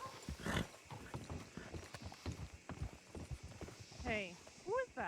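Horse hooves clip-clopping in Red Dead Redemption 2, a quick irregular patter of hoofbeats close by with a brief whinny-like call near the end, under a voice.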